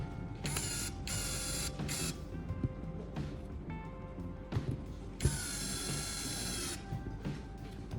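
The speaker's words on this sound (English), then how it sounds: "After making the connection, I tighten the screws firmly to lock everything in place." Screws being tightened on a two-port wire connector block, with repeated ratcheting clicks and short bursts of bright mechanical scraping, close by, with no talk.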